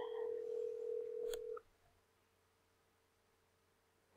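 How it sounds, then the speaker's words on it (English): A steady telephone ring tone sounds clearly for about a second and a half during a phone call, then cuts off abruptly, leaving a faint low hum and near silence. "I hear another ring."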